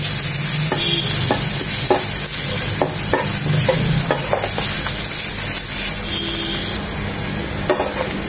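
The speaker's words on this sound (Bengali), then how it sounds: "বারবার নেড়ে চেড়ে পেঁয়াজ কুচিগুলোকে এভাবে ভেজে নিতে হবে" Chopped onions stir-fried in a pan for egg bhuna, a steady loud sizzle throughout with repeated scraping strokes of the spatula, no voices.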